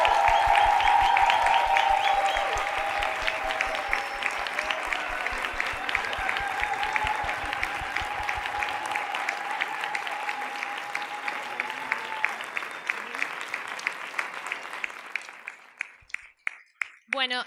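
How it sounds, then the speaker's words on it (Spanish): A seminar audience gives sustained applause to three speakers at an opening panel, a thick wash of clapping that holds steady for many seconds, then thins out into a few scattered final claps and silence. "les damos otro fuerte aplauso"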